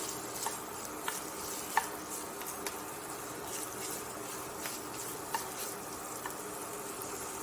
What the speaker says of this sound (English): So let's get this meat cooked up.